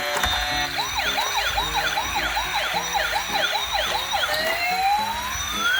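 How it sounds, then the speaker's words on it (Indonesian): A white toy ambulance wails its electronic siren, with a rapid repeating rise-and-fall pattern and a mechanical ticking underneath, loud and close, then ending on one long rising sweep. "ini adalah mobil ambulan yang berwarna putih"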